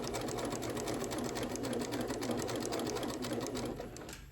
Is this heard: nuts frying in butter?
no